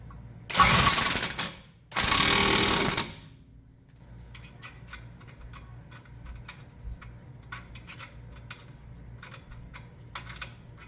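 A ratchet tightens a castle nut on a ball joint of a Nissan R50 Pathfinder 4x4. Two loud, harsh bursts come first, followed by a run of quick, crisp ratchet clicks in uneven groups, close to the listener.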